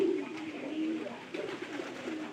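Domestic pigeons kept by a hobby breeder give low, rolling coos, one drawn-out call after another, close by and fairly steady.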